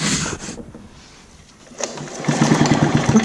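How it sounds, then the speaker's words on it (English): An old 30-year-old Sears leaf blower being cranked by its starter cord, with rasping pull strokes followed by a quick run of rhythmic engine-turning pulses, close and fairly loud. "and pull the cord and feel if there's suction."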